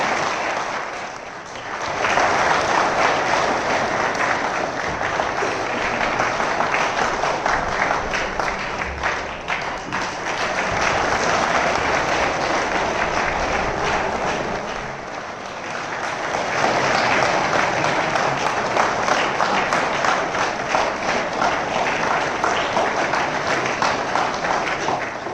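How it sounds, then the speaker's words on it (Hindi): Sustained audience applause at a workers' safety day event, with loud, steady clapping from a crowd that dips briefly and then swells again in waves over about twenty-five seconds. "तो जोरदार तालियों से स्वागत करें।"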